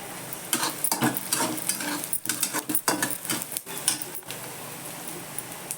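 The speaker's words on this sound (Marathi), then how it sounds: "थोडासा कांदा लाल होऊ द्यायचा आणि मग भाजी टाकायची" Red amaranth leaves and onion fry in a pan, giving a steady sizzle with repeated spatula scrapes and clinks against the metal, close and fairly quiet, with no speech.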